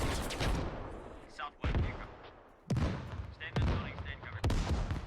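Rocket volley landing in the war game Operation: Arrowhead, four or five loud, separate blasts spaced about a second apart, each with a rumbling tail, with people talking in between.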